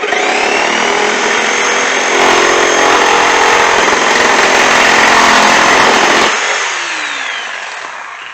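Power saw cutting wood pieces for a DIY fishing pole rack, a loud close whining roar that holds steady through the cut, then drops in pitch as the blade spins down.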